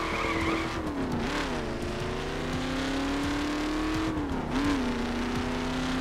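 A 1967 Shelby GT500 street version in The Crew racing game, its engine droning and rising in pitch while tires squeal in long skids, loud and continuous throughout.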